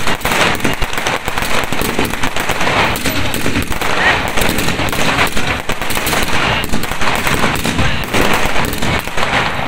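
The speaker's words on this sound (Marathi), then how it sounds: "निलंगा येथे भाजप कार्यकर्त्यांनी फटाक्यांची आतिषबाजी करून आनंद उत्सव साजरा केला" Firecrackers burst in a relentless rapid-fire chain at a BJP celebration in Nilanga, a loud, dense crackle of pops running continuously close by.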